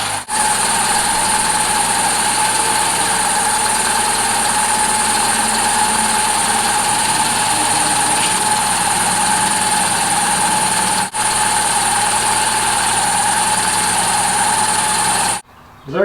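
A 2005 Hyundai Accent engine idles steadily after a power steering pump and pulley replacement, giving a constant, even hum with a faint high whine from the belt-driven accessories. There is no squeal and no break in the sound.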